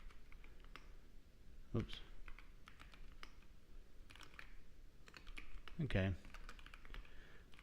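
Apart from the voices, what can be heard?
typing Linux commands on a computer keyboard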